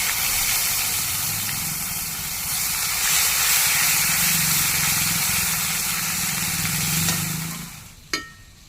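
Ground ginger, onion and garlic paste fries in hot oil with whole cumin and five-spice seeds, a loud, steady hiss that holds for several seconds before fading, followed by a single sharp metal clink near the end.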